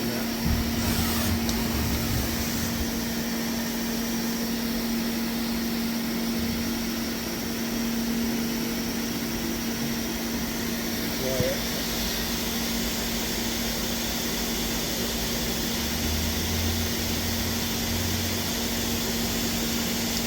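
A 2015 Eurotech Elite Multiflex 545SL-Y CNC turning center in near-new condition running a Y-axis move, a steady, even machine hum with a constant drone and faint whirring, close by and without talk.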